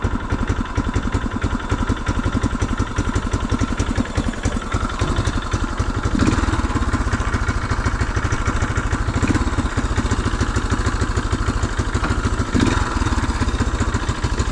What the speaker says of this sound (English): The chain's really loose, so you might hear some chain noise.